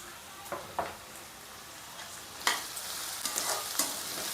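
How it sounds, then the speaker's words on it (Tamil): Sliced onions sautéing in hot oil in a pan for tomato thokku, a steady close sizzle broken by scattered stirring scrapes and clicks of a spoon, louder spurts midway, with no voices. "நல்லா வதங்கட்டும் வெங்காயம்"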